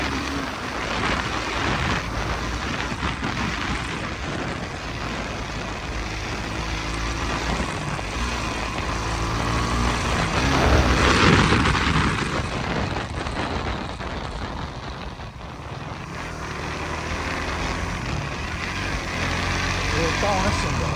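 A Suzuki GSX-R motorcycle climbs a steep mountain road in second gear at about 7000 rpm, its engine a loud, steady drone mixed with heavy wind rush throughout.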